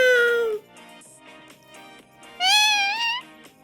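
A pet parrot named Sky imitates a cat's meow with two drawn-out, whiny, rising-and-falling calls, one at the start and a louder one near the end, each standing out clearly against a quiet background.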